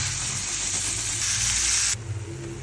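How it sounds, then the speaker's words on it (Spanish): Ground meat sizzling and frying steadily in a hot pan while cooking Argentine ají de fideo, a dense continuous crackle close up that drops noticeably quieter near the end. "Ahora le ponemos la carne molida."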